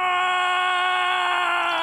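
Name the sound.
character screaming in Gwent video game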